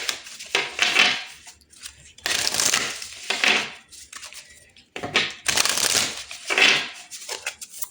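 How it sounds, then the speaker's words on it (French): Tarot cards shuffled and drawn for a weekly reading, giving three bursts of crisp riffling and sliding card noise close by, each swelling and fading with short pauses between, with no talk. "On va étirer une carte pour voir quel est le thème de votre semaine."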